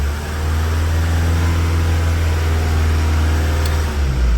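A Mazda CX-5 engine held steady at 2500 RPM, a loud continuous drone with a strong low hum, close and unchanging throughout.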